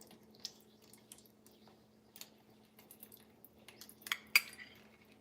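Tuna melt filling with onion scooped into small street-style tacos: soft, quiet wet squishes and light clinks of a spoon against a dish, spaced out, with a sharper knock near the end.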